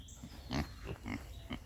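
A Kunekune pig on a homestead gives a series of short, soft grunts, four or five in quick succession, fairly close but quiet.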